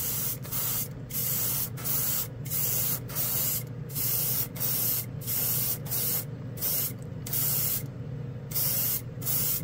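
A side feed airbrush sprays a gloss coat in repeated bursts of hissing air, about a dozen close, loud passes separated by brief pauses.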